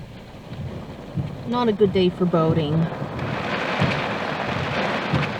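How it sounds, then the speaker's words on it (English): Steady rain hisses close by during a thunderstorm over Lake Arthur, with wind picking up, and someone talks over it early on before the downpour continues alone. "We have a steady rain and the winds are starting to pick up again."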